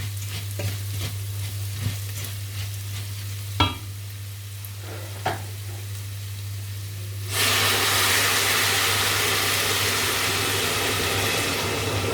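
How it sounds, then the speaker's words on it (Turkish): Vermicelli roasts in a pan with a faint stir and a few scraping clicks over a low steady hum, then a loud, continuous sizzle takes over for the rest of the clip. "birazcık şehriyesini fazla kavurmuşum"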